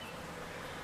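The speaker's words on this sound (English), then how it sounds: "I'm gonna shake that cage of bees out" A short burst of dense, close honey bee buzzing from a caged mass of bees during a colony removal, humming steadily.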